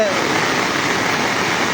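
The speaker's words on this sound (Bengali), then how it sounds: "এত পরিমাণ বৃষ্টি হচ্ছে" Heavy rain pours beside the Teesta river in flood, a loud, unbroken roaring hiss with a voice faintly beneath it.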